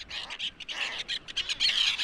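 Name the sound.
bird caught on a fishing line at low tide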